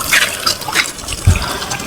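Flood water rushing and splashing nearby in a brief, loud gush with uneven bubbling surges.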